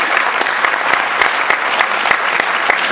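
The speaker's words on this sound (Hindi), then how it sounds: "दिल खोल के तालियां बजाइए" Dense, steady applause from a large audience at a mushaira, an Urdu poetry gathering held in Atlanta, filling the whole stretch with loud, sustained clapping and no voices.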